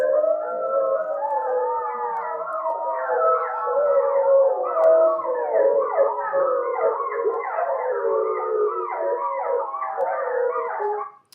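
A chorus of Yellowstone wolf pups howls in overlapping, wavering, rising and falling calls mixed with yips. The chorus runs loud and unbroken for about eleven seconds before stopping abruptly.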